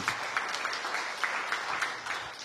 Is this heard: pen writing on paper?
no